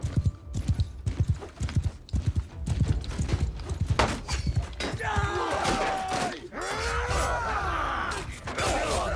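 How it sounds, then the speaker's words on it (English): Horse galloping in the Mount and Blade video game: rapid, loud clip-clop hoofbeats pound steadily through the first half, then fade under a swell of battle noise with metallic ringing and a whinny-like cry. "My horse almost died."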